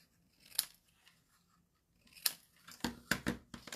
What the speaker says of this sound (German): Und die schneiden wir einfach mit der Schere.